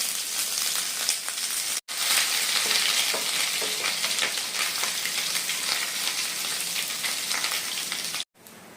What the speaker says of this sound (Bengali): আদাটা ভালো করে ভাজা হয়ে গেছে